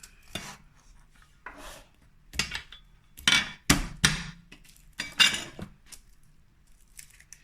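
Garlic cloves are chopped with a knife on a board, a series of sharp, close knocks in irregular bursts, some quick double strokes, with quiet gaps between.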